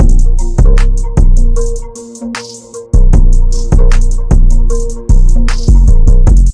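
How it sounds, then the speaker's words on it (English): A freestyle-style hip-hop beat produced in FL Studio plays on its own, with punchy, steady kicks and bright hi-hats, a brief breakdown where the drums drop out near the middle, then the full groove returns loud and continuous. "So that's just like a nice freestyle type beat, something for someone to put vocals over."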